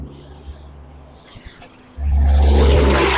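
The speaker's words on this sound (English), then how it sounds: "Can't hear with this traffic." Road traffic passes near a cabin roof build, a quiet murmur that swells abruptly into a loud, close roaring whoosh of a vehicle going by.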